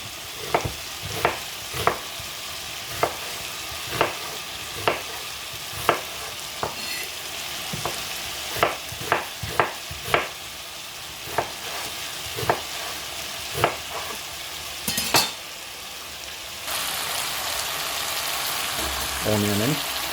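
Onion sizzles in a pot of oil for beef stew while a utensil stirs it, with a steady hiss and a string of scraping clacks from the spoon, then the frying grows louder near the end.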